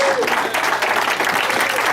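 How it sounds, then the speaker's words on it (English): An audience at a golf tournament gathering claps steadily throughout, loud and close, with voices mixed into the applause. "you're clapping"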